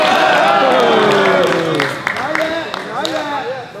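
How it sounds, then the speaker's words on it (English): A crowd at the 2019 Origin Immersion Camp cheers and shouts during a grappling match, a dense roar of overlapping raised voices with scattered claps that thins toward the end. "Come on, people cheer for it."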